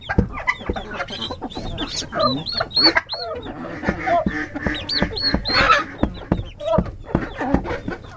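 Newly hatched turkey poults and adult turkeys in a coop give busy, close clucks, chirps and peeps in overlapping bursts, with a person talking now and then.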